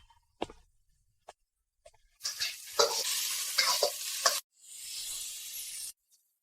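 Egg fried rice frying in a pan: a few sharp clinks of a utensil, then loud bursts of sizzling and stirring that stop briefly and resume, close and without talk.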